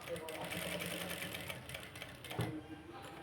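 A sewing machine stitches cloth with a continuous fast, even mechanical whir throughout, steady in level, while a voice speaks faintly alongside it.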